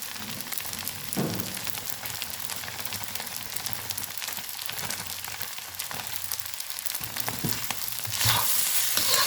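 Egg fried rice sizzling in a hot pan with oyster sauce and seasoning, stirred with steady scraping and stirring noises over a continuous fry hiss, growing louder near the end.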